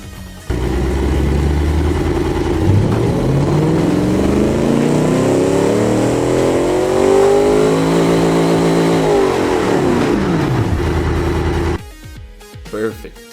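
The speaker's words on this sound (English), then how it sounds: "massive V8, exactly what I was looking for. Let's see how it sounds" A massive virtual V8 engine in the BeamNG driving game, revving loud and close in a long sustained run, the pitch climbing and falling through the rev range before cutting off abruptly.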